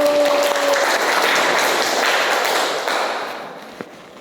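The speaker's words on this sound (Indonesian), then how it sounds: "Oke, tepuk tangan dulu." A group of students in a classroom lesson claps hands together, a loud, dense burst of applause that fades out over about three seconds, ending with a single tap.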